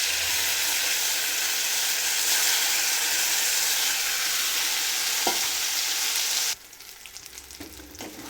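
Ground mint paste drops into hot oil with spluttering mustard seeds, bringing a loud, dense sizzle that cuts off sharply near the end, leaving only quieter crackling and stirring.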